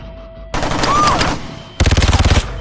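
Movie gunfire aimed at a cable: a sustained loud burst of shots followed by a rapid, evenly spaced volley of about a dozen sharp reports, close and dominant.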